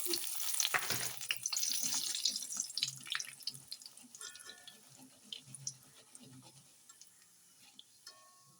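Oil sizzles and crackles as dried red chillies fry in a pan with brief stirring clatters, loud at first and gradually quieting as the frying settles.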